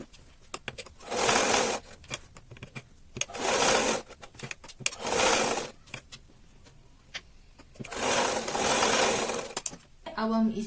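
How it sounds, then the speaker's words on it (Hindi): A sewing machine stitches a kurti in four bursts of about a second each, rapid and fairly close. Light clicks and handling noises fill the gaps between bursts. "अब हम इसी पर सिलाई चलाएंगे।"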